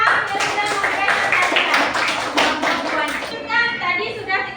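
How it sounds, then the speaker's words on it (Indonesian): A classroom of pupils applauds a classmate, dense rapid clapping that fills the room for about three seconds, then fades into a murmur of children's voices. "Tepuk tangan untuk kawan kita yang sudah memberikan"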